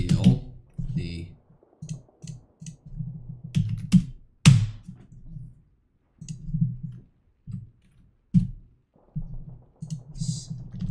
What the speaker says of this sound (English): You can't see how bad my typing is right now